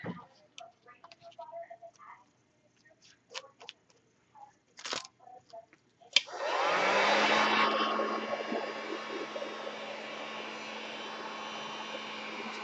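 Hair dryer blowing heat onto yarn for Christmas ornaments, switched on partway through as a loud, steady whooshing hum that carries on to the end after a few quiet taps and handling noises.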